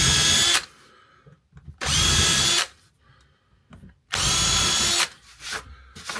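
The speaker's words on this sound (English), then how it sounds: "get my countersink drill. You've seen me do this many times. Drill through." A power drill with a countersink bit whines through pallet wood in three bursts of a second or so each, with quiet pauses and faint handling noise between.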